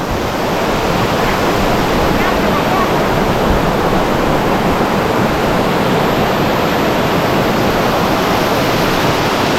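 Loud, steady roar of rushing water from Lan Rak (Tat Hin Kong) waterfall, a natural rock water slide in Nakhon Nayok, Thailand, broad and continuous throughout with no pauses.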